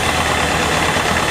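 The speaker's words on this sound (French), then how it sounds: "un tracteur McCormick FU 235 Utility" 1957 McCormick FU 235 Utility tractor with a 23-horsepower four-cylinder diesel engine, a loud, steady running drone at a vintage tractor parade.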